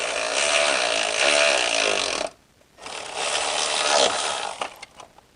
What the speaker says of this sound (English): So you want to tighten these screws.